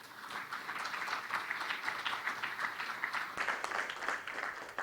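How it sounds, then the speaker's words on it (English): A dense, steady round of applause fills a stakeholders' dinner hall, heard quietly and at a distance with no voices rising above it. "I'd like you all to give a big round of applause to these early supporters of AIESEC."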